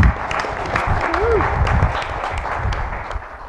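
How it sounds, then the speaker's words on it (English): Loud applause breaks out at an evening community meeting, a close, dense burst of clapping from a gathered audience that holds steady and then begins to thin out toward the end. "quick first round of applause to Paul Collette"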